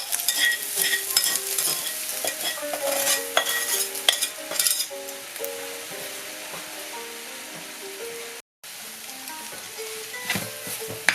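Steady scraping and clinking of a utensil stirring fried rice with sausage, egg and green vegetables in a hot pan, starting to stick at the bottom, with a constant sizzle underneath and a brief dropout near the end.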